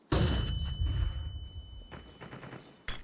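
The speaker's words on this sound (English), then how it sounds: "Flashbang." A flashbang grenade detonates in Counter-Strike 2 with a loud, sharp burst and a long high ringing tone that hangs on for nearly three seconds, followed by softer rattling thuds and a second abrupt bang at the end.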